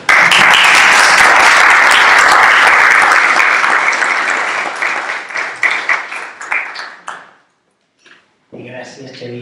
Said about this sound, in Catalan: Un fort aplaudiment de salutació.